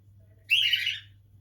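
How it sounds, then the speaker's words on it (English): A single seagull calls outside, one brief, bright cry heard over a low steady hum indoors. "seagulls outside making a noise, so the birds are talking back"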